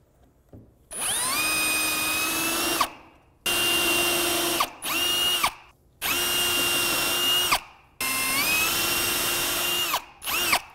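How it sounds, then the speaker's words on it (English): A drill driver with a countersink bit bores pilot holes into wood in a series of loud, steady whirring bursts, each a second or two long, with brief pauses between them and no talk. "We're going to do a pilot hole first so we don't split our wood."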